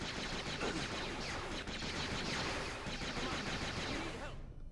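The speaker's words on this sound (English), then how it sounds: "Those ceiling turrets are usually what kills me." Ceiling turrets firing in Jedi Outcast: rapid, sustained bursts of blaster-like gunfire crackle almost without pause, loud and dense across the whole span, cutting off abruptly at the end, with a voice talking over the shooting.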